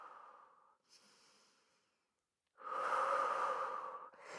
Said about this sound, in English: Taking a few more deep breaths here.